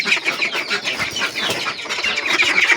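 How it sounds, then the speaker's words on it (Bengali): Farmyard poultry calls as a flock of village ducks is let out, a busy, continuous mix of close clucking and quacking alongside chickens, with no talking. "আজকে ব্লগের শুরুতে আমি আমার এই হাঁসগুলোকে ছাড়ি"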